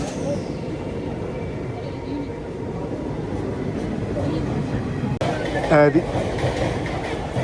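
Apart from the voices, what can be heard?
automobile carrier train passing through Nellore station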